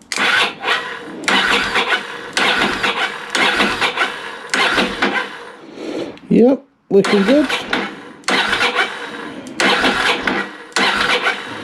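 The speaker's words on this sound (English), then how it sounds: "Now, got no intention of starting the bike, just want to make sure everything turns over proper" An old Ducati Monster 600 motorcycle engine, just fitted with new timing belts, cranks over in repeated short bursts without firing, close by, with a brief spoken remark partway through.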